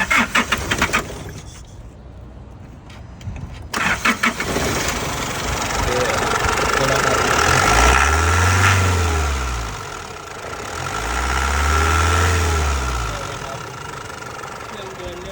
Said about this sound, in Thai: เดี๋ยวจะสตาร์ทฟังเสียงเครื่องยนต์กันนะครับ